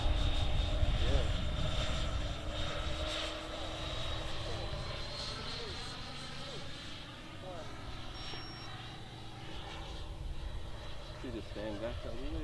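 A twin 90mm HSD Me-262 RC jet flies past with a steady, roaring turbine whine that swells and fades over the whole stretch, with a few voices faintly audible beneath it.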